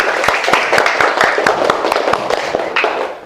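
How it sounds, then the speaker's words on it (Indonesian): A small group in an Indonesian classroom claps after a prayer, with distinct, closely spaced hand claps forming a lively, slightly uneven round of applause, close and loud. "Terima kasih Kia, tepuk tangan buat Kia."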